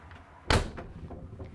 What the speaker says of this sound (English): I'm going to close the door so you can hear the insulation, the quietness.